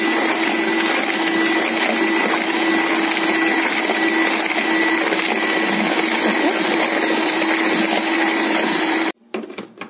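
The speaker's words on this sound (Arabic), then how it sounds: "كنطربوا البيض تطلع لنا بهذا الشكل" An electric mixer beats eggs and sugar in a bowl for cake batter, a loud, steady whine that runs without a break, then cuts out abruptly near the end with a few short bursts after.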